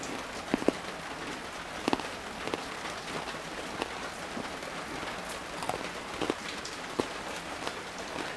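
Continuous rain hisses steadily, with scattered louder drips and taps landing nearby throughout.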